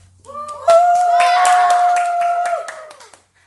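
Young schoolchildren's audience at a school musical about a class election claps and cheers in a short burst, under a sustained sung or shouted voice that holds a long tone through the middle.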